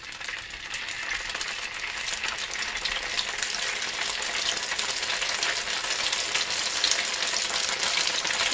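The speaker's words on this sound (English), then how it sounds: "And you'll want to fry it for about a minute on one side until it's golden brown, and then flip it to the other side." Funnel cake batter, swirled in as a 16th-century strauben, fries in hot oil with a dense, constant crackling sizzle that holds steady and slightly builds throughout, close and fairly loud, with no talking.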